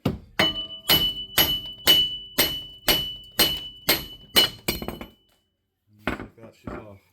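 Rear wheel bearing hub on a Chevrolet Lumina struck repeatedly with a hammer, about ten sharp metallic whacks in a steady rhythm, close and loud, then a pause and a few lighter clanks.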